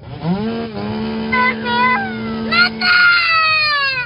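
A chainsaw engine revs and holds a steady whine, then drops in pitch, with shouting voices mixed over it nearby during a roadside traffic dispute.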